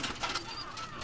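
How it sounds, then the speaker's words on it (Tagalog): Pigeons coo softly and briefly, faint and close, over a low hiss of background noise. "Ito mga kalapatids yung ibon na to."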